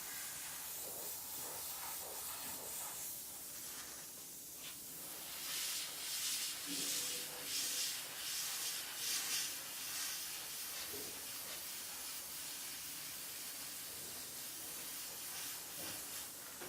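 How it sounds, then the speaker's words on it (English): A dual-action airbrush sprays paint in a steady, close hiss that swells and eases as the flow changes, with light handling noises underneath. "this is a dual action airbrush, I can go heavier on some areas"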